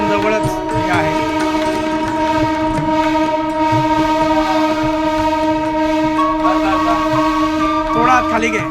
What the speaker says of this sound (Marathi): प्लॅटफॉर्मवरती स्वागत करतायत मोटर गाडीचं